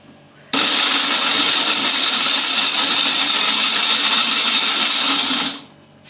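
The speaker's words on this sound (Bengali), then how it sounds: "এবার আমি ব্লেন্ড করে নেব।" An electric blender whirs steadily for about five seconds, loud and close, as it mashes salted dried fish (shutki) into a Bengali bhorta. It starts and stops abruptly, and no one talks over it.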